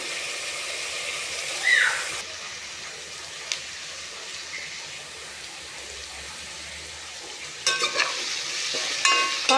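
Snake gourd sautéing in a pan for dal kootu gives a steady, soft sizzle with a few brief stirring scrapes and clatters, no voices.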